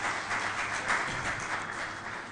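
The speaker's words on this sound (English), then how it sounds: "Please, a big round of applause for Imran." A panel event audience applauding a newly introduced panelist, a dense steady wash of clapping that holds throughout, fairly loud and close.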